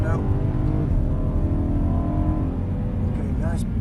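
Car engine on a race track during driver training, droning steadily and loudly up close throughout, with the pitch slowly rising and falling as the throttle is fed in, while an instructor talks over it.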